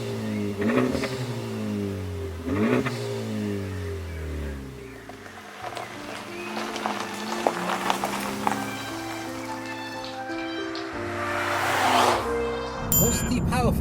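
Honda Civic Type R pulling away and accelerating on the road, its engine note rising through repeated gear pulls under cabin noise, close and fairly loud inside the car.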